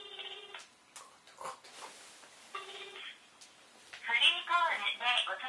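A telephone rings in bursts of electronic trills, separated by pauses with faint rustling, then a louder ring near the end.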